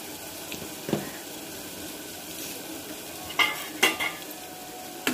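Ground turmeric and chili powder are stirred into a frying pan for a mutton dish, a soft sizzle under a few sharp utensil clanks against the pan near the end.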